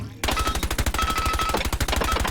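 Rapid automatic gunfire from a rifle fitted with a compensator in Rainbow Six Siege X, a loud, steady burst of evenly spaced shots running unbroken for over two seconds.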